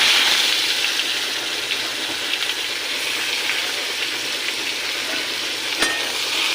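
Chopped onion sizzles steadily in hot oil with bay leaf and cumin in a pan for a spicy silver carp curry, a close, continuous bright frying hiss with occasional stirring clicks and no talk.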